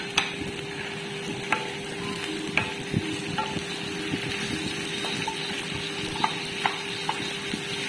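Onions and chicken pieces frying in a pan on a home stove, a steady broadband sizzle with occasional sharp clinks and scrapes of a stirring utensil, close and moderately loud, no talking.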